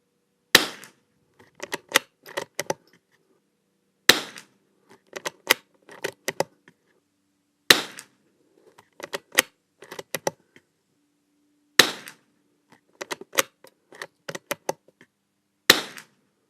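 Shots from a Christensen Arms Ranger 22 .22LR rifle fitted with a Spearhead Machine barrel tuner: five separate groups of sharp cracks spaced a few seconds apart, each one followed by a short rattle of lighter clicks.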